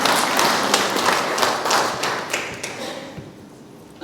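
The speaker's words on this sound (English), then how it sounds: "Now we are applauding you. A round of applause." An audience at a schools association workshop in a hotel gives a round of applause, dense overlapping claps and taps rising and falling steadily before tapering off, with no clear speech over it.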